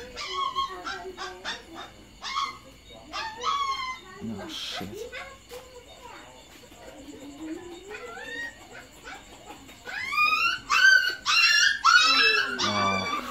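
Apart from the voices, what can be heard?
puppies yelping and screaming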